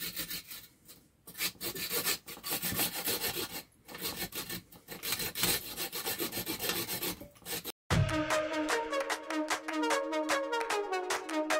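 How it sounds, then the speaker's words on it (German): A small hand saw rasps steadily through wood, trimming it roughly flush, in quick back-and-forth strokes, then after a brief pause continues with a faster, sharper rhythmic cutting. "Ich habe jetzt eine kleine Säge hier. Jetzt sägen wir das Ganze hier ist erstmal so halbwegs bündig ab."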